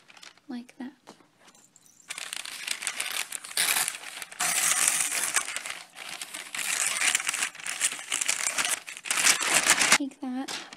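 Wrapping paper is crinkled and torn by hand in several loud, close bursts, with someone speaking briefly at the start and the end.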